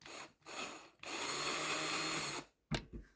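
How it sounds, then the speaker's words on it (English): A small drill whirring in short bursts while boring holes into birch bark, one longer grinding run, then a brief scrape, close up with no talking. "I'm going to drill a couple of holes into the birch bark"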